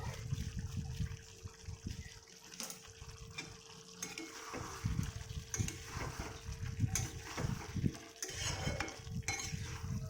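Potatoes fry in a pan with sour curd and chicken masala, stirred with a utensil. Close, irregular scraping and clattering comes in uneven bursts over a wet sizzle, with no talking.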